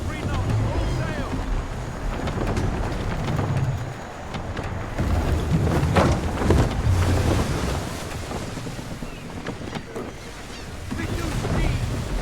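A sailing ship running under full sail in Assassin's Creed 3, with steady wind roar and rushing sea water against the hull, dense and continuous throughout, with faint bursts of ship noise rising and falling.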